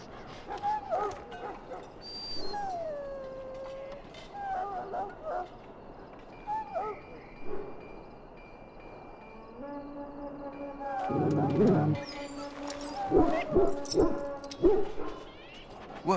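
A dog in Dragon Age Origins whimpers and yips in pitched whines between stretches of speech, with a few short barks near the end over a louder, busier game soundscape.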